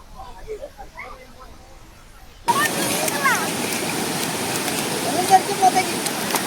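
Quiet outdoor ambience gives way abruptly to a loud, steady rushing roar of falling water from Athirappilly waterfall that continues to the end.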